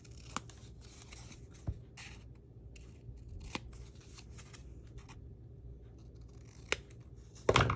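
Scissors snip repeatedly through paper while mitering the corners of a 3x3 mini album page over chipboard, giving crisp, close, irregular cuts with quiet pauses between them.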